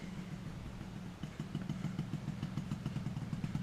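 A Yamaha RD350LC two-stroke motorcycle idles close by, a steady rapid burbling putter with a slightly uneven, popping rhythm, no voices over it.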